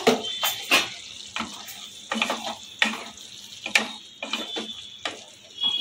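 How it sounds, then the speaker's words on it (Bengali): Jackfruit curry being stirred in a pan with a little shahi garam masala, giving a run of close scraping and clattering strokes at an uneven rhythm, with faint background hiss between them and no talk. "এখন এর মধ্যে সামান্য একটুখানি শাহি গরম মশলা দেবো। ভালো করে নেড়ে চেড়ে নেব।"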